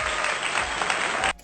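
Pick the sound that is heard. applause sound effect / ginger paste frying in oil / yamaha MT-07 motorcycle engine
applause sound effect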